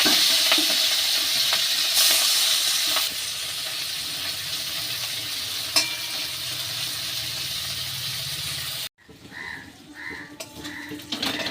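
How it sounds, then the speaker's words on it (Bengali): Marinated shrimp fry in hot oil in a kadai, making a loud, steady close hiss and sizzle that cuts off abruptly near the end, leaving quieter kitchen sounds. "কড়াই তেলটাও গরম হয়ে গেছে আর আমি চিংড়ি মাছগুলোকে ছেড়ে দেবো"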